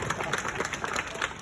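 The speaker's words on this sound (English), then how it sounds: "Give yourself a big round of applause." Brief burst of audience applause at a sea lion show, a short spell of steady clapping from the crowd.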